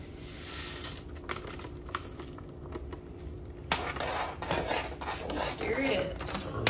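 A spoon scrapes and stirs mashed potatoes in a pot, with rasping, rubbing strokes and occasional soft clinks against the metal, close and moderately quiet, without talking.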